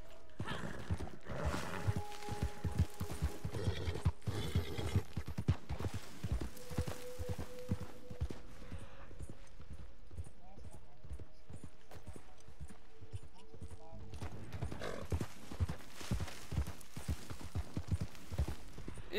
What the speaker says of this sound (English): I'll ride his horse for a little bit